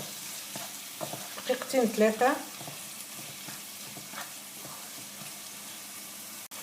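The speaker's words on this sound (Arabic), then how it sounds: "نحلهم وخليهم يتقلاو بالكدا حتى لاسيديتي نتاع الطماطم تمشي" Onions and tomatoes fry in a pan for Tunisian mtabga, a soft steady sizzle with a short burst of stirring near the start, and a brief word spoken over it.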